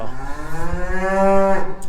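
A single cow lets out one long, loud, close moo on a farm, rising and holding steady before trailing off.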